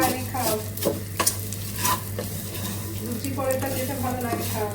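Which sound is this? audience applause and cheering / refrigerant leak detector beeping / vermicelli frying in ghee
vermicelli frying in ghee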